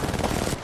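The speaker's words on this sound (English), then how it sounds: "I missed all my shots." Rapid automatic gunfire in Apex Legends, a loud, close burst of fast repeated shots that runs through the whole short moment.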